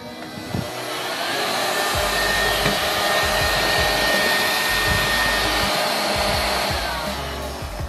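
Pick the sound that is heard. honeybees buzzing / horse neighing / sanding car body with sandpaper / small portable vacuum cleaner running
small portable vacuum cleaner running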